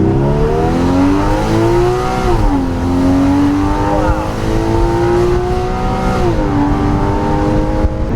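A base Porsche Cayman 981 with PDK gearbox accelerates hard, its engine note rising steadily then dropping abruptly at two quick upshifts before climbing again, loud and close throughout.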